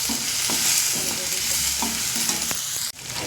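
Spice tempering sizzles and crackles in hot oil while being prepared for a black-eyed pea snack, a close, continuous fry with a few sharp pops and stirring scrapes, briefly cut off near the end.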